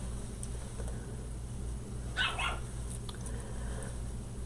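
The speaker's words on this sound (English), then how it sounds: "Can you hear the puppies barking at each other?" Puppies bark and yip at each other indoors, a short burst of overlapping barks rising midway over a steady low hum, fairly distant and not very loud.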